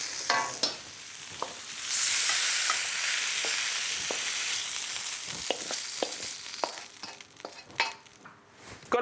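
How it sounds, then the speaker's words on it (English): Rice and shiitake mushrooms sizzle and get stirred in a clay pot, loud and close. Scattered scraping knocks from the stirring sit over a steady sizzle. "now we're going to cook the rice in the clay pot"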